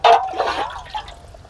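A short splashy gush of water pours into a cooking pot for gongura chicken pulav, close and loud at first, then tapering into softer sloshing.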